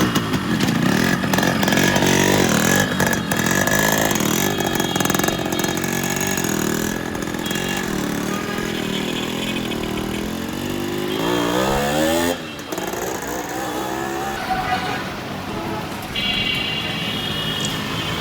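A modified Yamaha RX100 motorcycle, rebuilt in a classic style, runs loud and close on a test drive, its engine buzzing steadily with revs rising and falling throughout.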